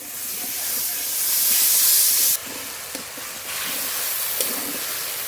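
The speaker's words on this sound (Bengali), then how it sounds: "একটু জল দিয়ে মশলা খুব ভালো করে কষিয়ে নেব" A spice paste with salt, turmeric and a splash of water fried in a pan gives a loud, steaming hiss that swells, then abruptly drops to a quieter sizzle with small pops.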